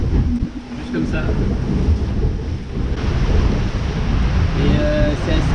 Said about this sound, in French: il pleut des cordes, on a 33 nœuds de vent